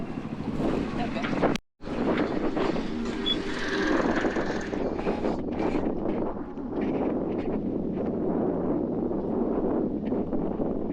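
A sailboat's engine drones steadily and low as it motors along, under gusty wind and water noise, with people talking over it throughout.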